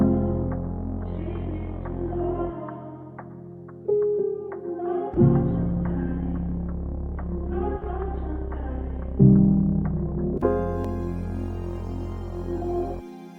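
A simple, chilled R&B melody plays on soft keys over sustained bass notes, phrases shifting every few seconds with gentle plucked accents and a brighter, fuller chord near the end.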